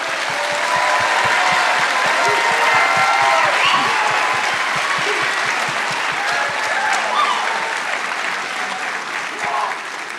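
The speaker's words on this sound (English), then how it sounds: "let's just start with giving all 62 of them a round of applause" A large crowd claps steadily and warmly for several seconds at a high school graduation, dense applause filling the room and tapering slightly at the end.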